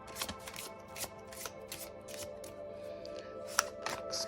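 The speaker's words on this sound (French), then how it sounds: "Allez, on va tirer une petite carte" Playing cards drawn from a deck and shuffled during a Snow White fairy-tale tarot reading, quick crisp riffling flicks and taps, close and fairly quiet, with a few sharper snaps.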